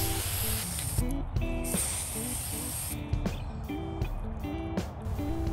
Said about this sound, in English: I am going to spray paint them white